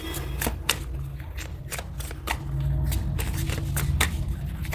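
Tarot cards being shuffled by hand, a steady papery riffle of snaps and slides running close and clear throughout, with no talk over it.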